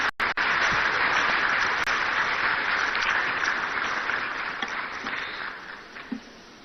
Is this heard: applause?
yes